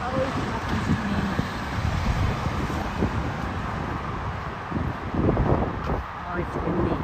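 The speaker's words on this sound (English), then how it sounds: "Oh, it's windy." Wind roars steadily across the microphone outdoors in a small town on a spring day, a continuous rumbling buffet with gusts swelling louder toward the end, while someone talks over it.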